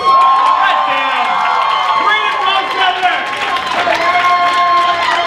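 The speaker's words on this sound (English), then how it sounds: "applause for Tyler Hall" Audience at a cabaret night cheers, whoops and applauds steadily for performer Tyler Hall, a dense, loud crowd wash lasting throughout with voices mixed in.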